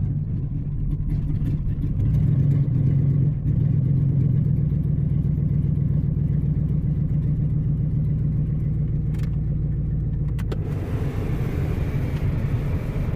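Idling pickup truck engine rumbles low and steady, close by, as the truck creeps forward, with a rhythmic throb that briefly rises before settling back to an even idle.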